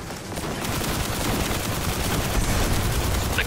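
Dense, continuous gunfire from the Destiny co-op Sleeper Simulant mission, with rapid overlapping shots at steady loudness throughout and no talking.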